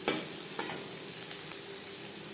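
Red amaranth greens frying with onion in a pan, a steady soft sizzle with a few faint stirring clinks and scrapes, no voices over it.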